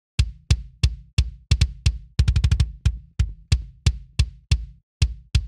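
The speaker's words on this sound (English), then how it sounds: "So as you can hear, that second kick sample really adds a lot of extra attack to the original kick sound." Layered metal kick drum samples, a warm kick combined with a brighter, attack-heavy second kick, strike in a steady pattern of loud, punchy hits with a fast flurry of rapid double-kick strokes in the middle, alone with no other instruments.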